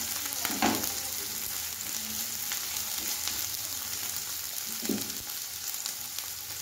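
Chopped garlic fries in a pan with a continuous soft sizzle, broken by a few scraping stirs of a spatula at irregular intervals; close but moderately quiet, with no voices.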